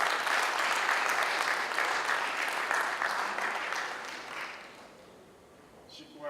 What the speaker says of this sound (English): Please, round of applause for her.